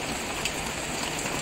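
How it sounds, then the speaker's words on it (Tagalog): Heavy rain pours steadily onto surfaces around a house with no gutter along the side, a dense, close hiss of drops without any voices. "sobrang lakas ng ulan dito"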